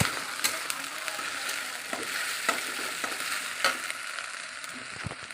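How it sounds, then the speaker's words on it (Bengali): Ginger and cumin spice paste fries in hot oil for a potato and fish curry, making a continuous bright sizzle broken by occasional sharp stirring clicks, heard alone without talk. "আদা জিরে একটু কষে নিচ্ছি"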